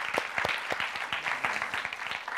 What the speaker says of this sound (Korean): 다시 한번 주님께 박수하시겠습니다